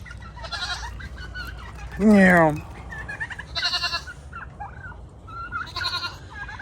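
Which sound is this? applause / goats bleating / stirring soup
goats bleating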